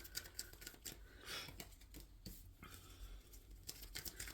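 Tarot cards are shuffled by hand in quick riffling and snapping bursts, close and quiet, with brief pauses between flurries.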